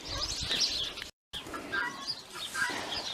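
Backyard chickens cluck and squawk close by, with a flutter of wings and a brief silent gap partway through.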